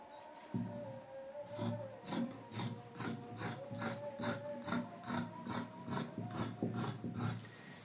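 Fabric being cut for a garment sleeve, along the seam allowance up to the straight-grain line, with a close, steady run of rhythmic rasping snips over a faint background hum.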